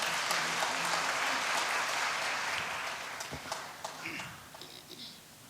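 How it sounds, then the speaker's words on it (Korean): Warm applause from a church gathering welcomes a family couple to the stage, broad clapping that is fairly steady at first and then thins out, with voices and some scattered sharper claps near the end. "따뜻한 환영의 박수 부탁드리겠습니다"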